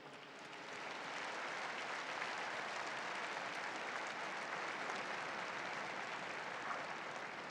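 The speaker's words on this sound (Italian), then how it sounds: "Un applauso alle nuove beate." Crowd applause in St. Peter's Square during the Sunday Angelus, a dense, even wash of clapping that swells in after a moment and holds steady, distant and sustained to the end.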